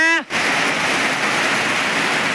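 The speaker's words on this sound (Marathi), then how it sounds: "पाऊस मोठा आहे, पाण्यावर पाणी खाली येते झाडाच्या" Heavy rain on a farm field pours down in a dense, loud, continuous hiss, with water dripping from trees, after a short spoken word at the very start.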